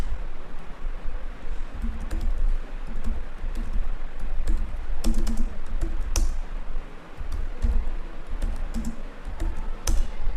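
Steady, close typing on a computer keyboard while writing code, with fast irregular key clicks and occasional sharper taps running continuously without talk.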